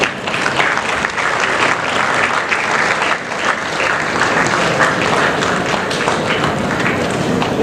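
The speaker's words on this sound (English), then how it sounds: "More applause for Nigma sir." Dense, steady applause from an audience at a Confederation of Indian Industry G20 young entrepreneurs event, a loud wash of many hands clapping continuously without a break for several seconds.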